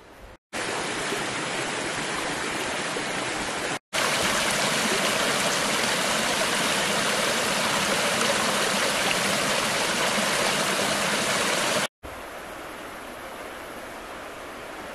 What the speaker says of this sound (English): There's the Nina River down below us.